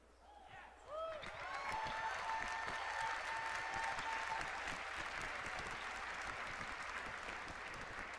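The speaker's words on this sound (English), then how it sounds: "I hear people cheering" A large audience at a Warlords of Draenor presentation bursts into cheering and applause, building quickly into a loud, sustained roar of clapping and whoops that fills the room.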